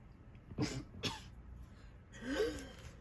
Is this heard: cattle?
no